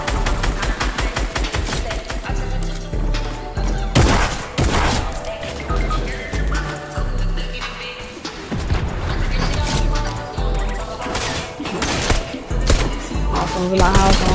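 Rapid gunfire bursts from the Fortnite video game crackle almost nonstop at a loud level, overlaid with dense music-like beats and punctuated by heavier blasts throughout.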